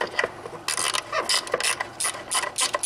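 Ratchet wrench clicking in quick bursts while snugging nuts onto studs of a BMW N55 engine during oil filter housing work, several separate runs of sharp ratcheting, close and fairly loud.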